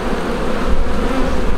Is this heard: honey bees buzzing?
yes